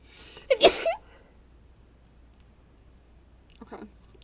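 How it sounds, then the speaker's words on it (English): A single sharp human sneeze bursts out near the start, loud and close, followed by quiet and a small breathy sound toward the end. "I'm gonna sneeze."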